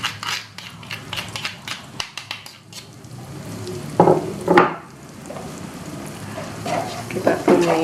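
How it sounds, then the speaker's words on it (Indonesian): Pounded peanut spice paste hits about six spoonfuls of hot oil and sautés in a steady sizzle, with stirring scrapes and a louder burst of crackling midway. No one speaks. "Kalau sudah panas kayak gini, masukkan bumbu kacangnya yang sudah diulek tadi."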